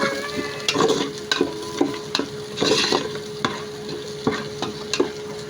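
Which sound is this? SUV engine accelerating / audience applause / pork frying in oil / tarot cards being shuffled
pork frying in oil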